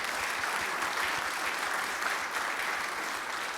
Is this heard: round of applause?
yes